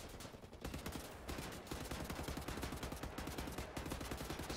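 Dense, continuous gunfire from Wolfenstein: The New Order, rapid automatic bursts rattling on without pause at close range, loud and steady throughout.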